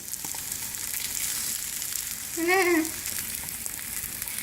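Eggs fry in a pan with a steady, close sizzle running throughout, briefly topped by a short higher tonal squeak near the middle.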